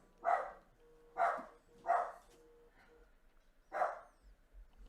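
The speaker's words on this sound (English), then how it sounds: "You hear the dog barking? We got the dog barking." A dog barks four times in loud, separate bursts, three in quick succession and one after a short pause, with no talking.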